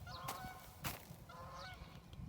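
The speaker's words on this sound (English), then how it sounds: "Hear the geese." Geese honk near a garden pond, two clear bursts of honking about a second apart, moderately distant and alone with some sharp clicks.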